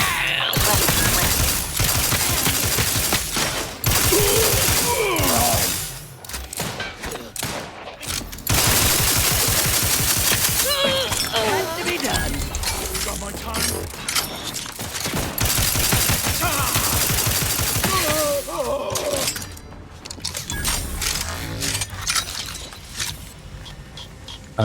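Rapid automatic gunfire and bursts of shots in The Outer Worlds 2, loud and dense across long stretches, broken by brief pauses, with scattered shouts in between.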